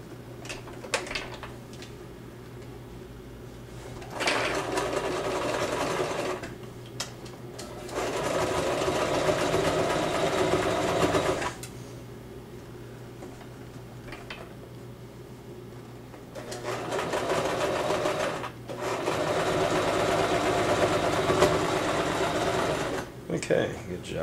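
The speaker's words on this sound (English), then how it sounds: "And then we're going to sew it." A sewing machine stitches a handmade puppet body in bursts, three runs of steady whirring separated by pauses, close up, with a voice speaking between runs.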